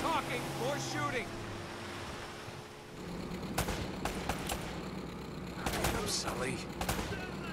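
Gunfire in the Uncharted: Drake's Fortune video game, bursts of sharp shots crackling in clusters midway and near the end, with water and boat noise beneath and a voice speaking briefly early on.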